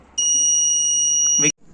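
Buzzer of a laser security system demonstrated in an engineering college presentation gives one loud, steady electronic tone lasting about a second and a quarter, ending abruptly amid a brief clatter.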